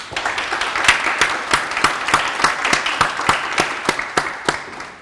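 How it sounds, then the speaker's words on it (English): A round of audience applause at a public safety career pipeline award ceremony, dense steady clapping with sharp individual claps standing out, close and loud with no talking. "if you would all give him a nice round of applause"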